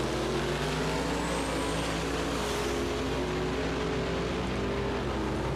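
Roaring engines as a 1966 Chevelle and a Firebird launch off the line in a drag race, a loud, constant broadband rumble with rising engine tones and no pauses.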